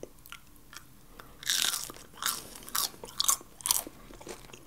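Crispy Korean fried chicken is bitten and chewed up close, with a series of sharp, irregular crunches between quieter chewing sounds and no talking.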